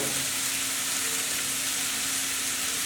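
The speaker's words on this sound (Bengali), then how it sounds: "আমি পেঁয়াজ এবং তেল একসাথে দিয়ে প্রথমে ভেজে নিলাম কিছুক্ষণ" Onions sizzle in about four tablespoons of oil at the start of a beef biryani, a steady, dense crackling hiss that stays even throughout, with no voices.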